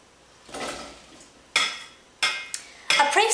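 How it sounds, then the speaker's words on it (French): Peeled, cut apples are poured into a saucepan in a home kitchen, giving four separate clattering bursts of fruit knocking against the metal pan, each sharp at the start and then fading, in an otherwise quiet room. "mon petit frère versait les pommes dans la casserole"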